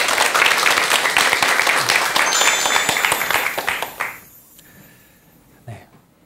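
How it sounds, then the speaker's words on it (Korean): An audience at a Buddhist lecture broadcast breaks into dense, loud applause that carries for about four seconds, then fades to near silence. "여러분 큰 박수 부탁드립니다."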